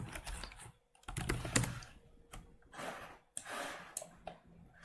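Clattering keystrokes on a computer keyboard in bursts of quick typing with short pauses, close and clear with no voices.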